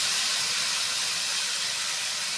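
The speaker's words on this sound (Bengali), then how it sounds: "এবার আমি এর ভিতরে সবজিটা ঢেলে দেবো।" Vegetables hit hot oil holding fried lentil dumplings, giving a steady, close, bright hiss of sizzling that holds at an even level throughout the short moment.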